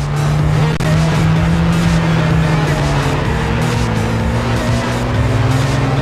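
Racing car engines in Gran Turismo played on a Nintendo Switch, a steady loud droning engine tone that shifts pitch slightly, with hints of tire squeal and no pauses throughout.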